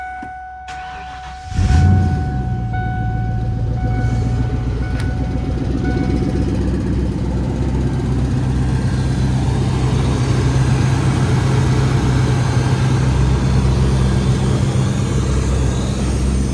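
A barn-find car with no muffler, unhooked intake sensors and a large vacuum leak fires up and settles into a loud, raw, steady running rumble that stays close and constant with no talking.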